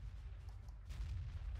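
Tank gunfire in the World of Tanks video game (VK 45.02 A), with low rumbling booms and a heavy blast rolling in partway through, fairly quiet and without talk.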